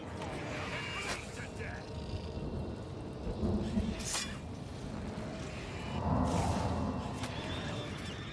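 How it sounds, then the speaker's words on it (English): Thunderstorm in the video game Oblivion Remastered: low rumbling thunder rolls and steady rain-like hiss, with swells around the middle and near the end, under a talking voice. "Wild storm"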